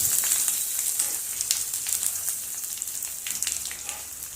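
Curry leaves, dried red chillies and ginger frying in hot oil for a chickpea curry, a bright continuous sizzle with crackling pops, close and steady without talk.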